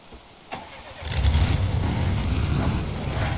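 A bus engine in Far Cry 2 cranks with a brief click, then catches and settles into a loud, steady low idle rumble close by.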